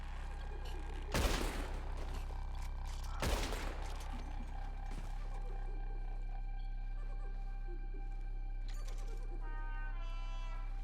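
Two loud, sharp gunshot bursts ring out in Red Dead Redemption 2 over a steady droning game score, followed by scattered smaller cracks and clatter as the gunfight continues.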